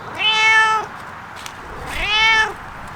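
Two clear, drawn-out cat meows, close by, separated by a short pause in an otherwise quiet setting.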